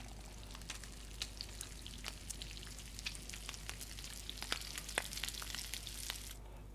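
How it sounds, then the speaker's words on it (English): Fish frying in a pan on a stove in The Long Dark, a steady soft sizzle with scattered crackling pops, fairly quiet and alone with no talk. "And now we can cook some fish."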